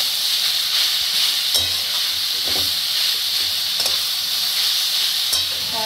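Spiced vegetables frying in hot oil for vegetable chop filling, a loud continuous sizzle and hiss with periodic scraping clinks of a spatula stirring the pan, no talk.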